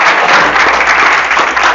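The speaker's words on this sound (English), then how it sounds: "If you can give him a round of applause." An audience gives a loud, dense round of applause for an Epic Games guest speaker, a continuous close wash of many hands clapping with no talk over it.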